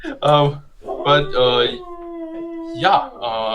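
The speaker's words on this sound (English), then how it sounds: "Yeah, my dog's howling." A dog howls up close in several drawn-out, wavering cries, with a long steady tone in the middle and short yelping breaks between.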